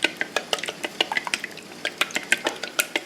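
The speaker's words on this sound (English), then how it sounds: "we're going to just lightly whisk that up" An egg and yolk are lightly whisked in a large bowl with a small whisk, giving quick, rhythmic metal taps and clicks against the bowl, close and crisp, with no talk.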